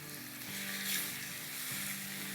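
Ground chicken fries with ginger and onion in a pan, giving a soft, steady sizzle with a low background hum and no voices.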